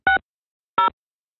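Two short electronic keypad tones from a telephone dialing extension 6000 on an Asterisk phone system, each a brief clean beep separated by a pause of about half a second, heard alone in silence.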